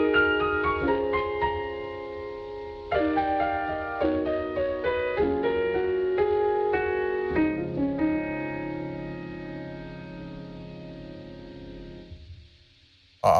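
Teletone Golden Age Grand piano plugin on its Carnegie Hall, October 1960 preset, playing slow chords and melody notes that ring with a long, roomy sustain before fading to silence.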